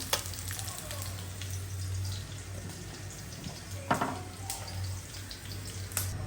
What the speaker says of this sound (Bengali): এখানে মুড়াটা আমি হালকা তেলে ভাজবো